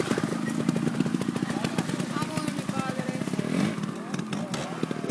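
A trials motorcycle engine runs continuously at a trials event zone, a buzzing, rapidly pulsing drone that surges and varies in rhythm, close and fairly loud, with people talking over it.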